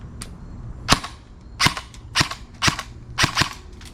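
A custom airsoft gun fires a magazine in a few sharp, close, loud pops, separate shots spaced unevenly about half a second apart, with no talking.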